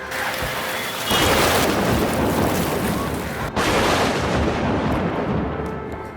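Sudden stormy wind and rain sweep through Dharan in a loud, steady roaring wash that surges stronger after the first second, dips briefly midway, then keeps blowing hard.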